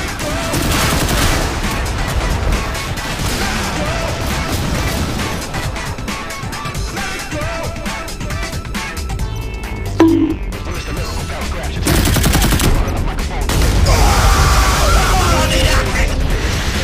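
Heavy machine gun fire in the naval combat game Modern Warships, loud sustained bursts with crashes and explosions layered over game music and a voice talking throughout.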